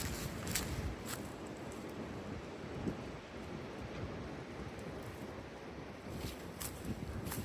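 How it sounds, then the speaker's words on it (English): Wind gusting across a hiking trail on the Uwharrie Trail, a steady broadband rush with buffeting against the microphone that swells and eases throughout, with no voices. "The wind is picking up."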